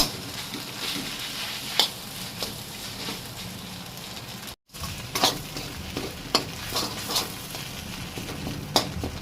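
Cooked pasta stirred and broken up in a pan of spicy egg mixture, with soft scraping strokes and faint sizzling, spoon taps recurring every second or so at moderate level, no talking.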